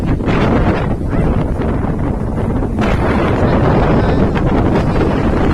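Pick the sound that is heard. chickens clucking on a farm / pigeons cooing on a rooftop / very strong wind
very strong wind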